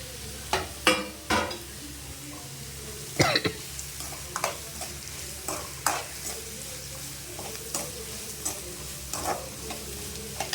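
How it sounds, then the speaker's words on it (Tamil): Green chillies and curry leaves crackle and sizzle in hot oil while a spoon stirs, with sharp spattering pops at irregular intervals over a steady low frying hiss, close and fairly quiet. "இப்போ வந்து பச்சை மிளகாயும் கருவேப்பிலையும் போட்டுறேன்"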